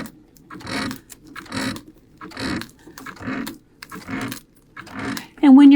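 A Brother sewing machine fitted with a couching foot stitches a petal shape in short, evenly spaced bursts of mechanical whirring, each followed by a pause, and a voice speaks briefly at the end.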